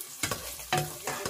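Chicken adobo sautés in a pan, a soft steady sizzle broken by a few quick stirring scrapes.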